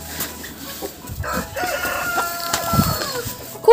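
Hens cluck and murmur nearby in overlapping calls, and a rooster's loud crow bursts in right at the end.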